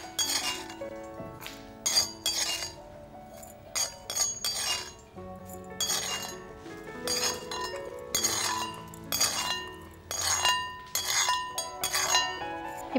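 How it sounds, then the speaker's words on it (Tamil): Roasted mixture spooned from a pan into a glass jar, giving repeated bright clinks of metal against glass in irregular bursts, close and fairly loud, with no talking. "இதை நம்ம ஒரு ஜாருக்கு மாற்றிக்கலாம்."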